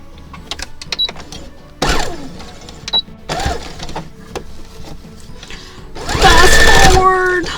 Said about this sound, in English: Then I'm just going to go ahead and go along and top stitch it.